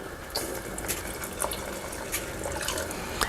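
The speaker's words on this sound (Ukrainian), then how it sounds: "я зменшую вогонь та вливаю сюди крохмаль з водою" Starch mixed with water pours and trickles steadily into a pot of boiling cherries, with small drips and splashes, close and fairly quiet.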